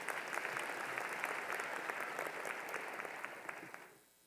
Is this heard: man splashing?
no